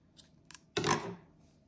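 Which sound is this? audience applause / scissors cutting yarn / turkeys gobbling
scissors cutting yarn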